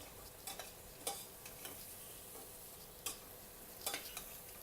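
Curry of beans simmering down in a pan over medium heat, giving a soft, steady low sizzle with a few faint scattered ticks and stirring clicks, quiet and without talk.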